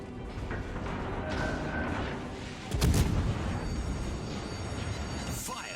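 Naval gunfire aimed at destroyers in World of Warships: Legends, a steady rumbling battle din with a heavier boom near the middle and sharper reports late, no speech.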